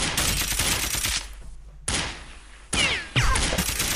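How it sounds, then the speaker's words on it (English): Cannon fire as a sound effect, heavy booming blasts in bursts separated by short silences, loud and close, with a whistling streak toward the end. "Cannons."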